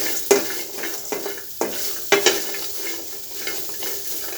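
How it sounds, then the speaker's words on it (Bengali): Chillies, onions and garlic stirred and sizzling in a hot pan, with a steady fry and a few scraping clacks at irregular intervals. "মরিচ আর পেঁয়াজ রসুনগুলো ভাজি করা হয়ে গেছে"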